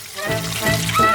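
Too much hot oil, poured into a frying pan to crisp potatoes, spatters and sizzles close up with a busy, uneven crackle and a brief brighter spurt near the end.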